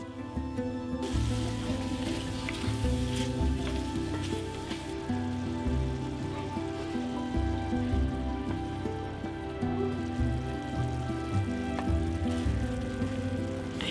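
Shrimp fry in a little oil in a cast iron skillet with garlic, giving a steady, dense sizzle and crackle that carries on unbroken throughout.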